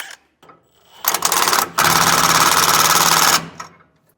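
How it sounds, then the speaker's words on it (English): An impact wrench running bolts into a B&W Turnoverball underbed gooseneck trailer hitch, two loud close rattling bursts, a short one then a longer sustained hammering run, ending in quiet. "I'm just going to go ahead and use an impact and run them in"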